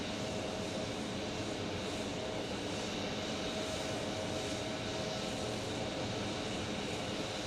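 An airliner takes off at Phoenix Sky Harbor Airport with a continuous, loud engine roar, broad and steady throughout, with no talking.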